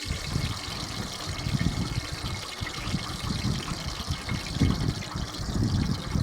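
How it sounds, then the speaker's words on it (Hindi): Oil poured into water in a pressure cooker crackles and sputters continuously, with dense, irregular popping and bubbling close to the microphone. "पानी था और मैंने उसमें तेल डाल दिया, बहुत चटा चटा कर रहा है"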